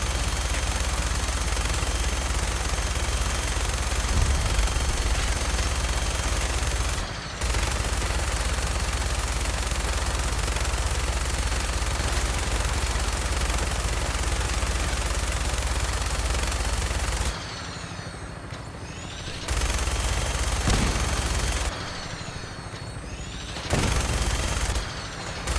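Rapid, sustained automatic gunfire from Fallout 4 fills the scene almost continuously, loud and dense, broken by a few brief pauses before bursts resume.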